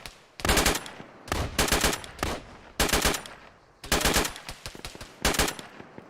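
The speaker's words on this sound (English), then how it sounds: "On the gun, check the gun." Machine gun firing in several sustained bursts during a military training exercise, loud and close, with short gaps between volleys and no talk over it.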